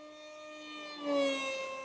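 A modified RC Powers Su27 V5 model jet flies past with a steady high whine from its motor, the pitch shifting slightly as it passes and swells briefly louder before easing off.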